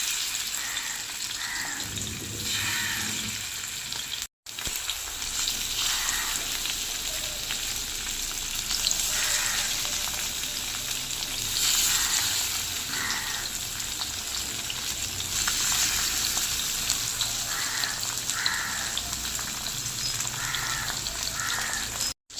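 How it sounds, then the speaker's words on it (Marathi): Mallya fish fry in a pan with a loud, constant crackling sizzle that barely lets up, while crows caw now and then in the background. "आता मी असं फ्राय करून घेते"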